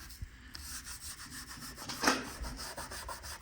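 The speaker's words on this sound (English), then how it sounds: "I'm going to take my Scotch-Brite pad and I'm going to soak it with some wax and grease remover." A Scotch-Brite pad soaked in wax and grease remover rubs back and forth in the groove of a car bumper, giving soft, rhythmic scrubbing strokes close up with one sharper scrape in the middle.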